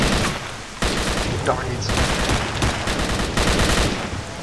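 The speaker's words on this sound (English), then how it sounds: "Three guys shooting at me." Dense, continuous gunfire from several enemies in the video game STALKER: Shadow of Chernobyl, rapid overlapping shots filling the whole stretch while a player mutters briefly over it.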